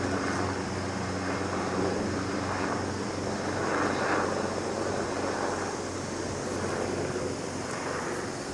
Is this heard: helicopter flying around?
yes